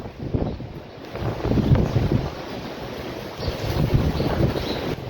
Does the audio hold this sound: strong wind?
yes